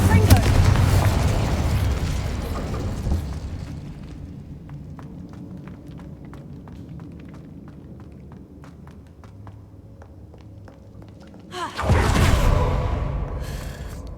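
Fire and blast spells burst in Hogwarts Legacy, a loud booming explosion opening the stretch, then a quieter rumbling lull with small pops and steps, and another sharp blast near the end; a voice talks over parts.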